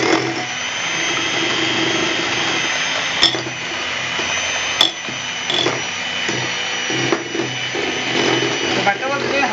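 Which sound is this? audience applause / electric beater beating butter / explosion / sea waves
electric beater beating butter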